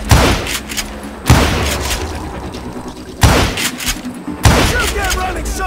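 Gunfire in the western shooter Call of Juarez Gunslinger, four loud booming shots spaced a second or two apart, each with a ringing tail, over a constant low battle rumble.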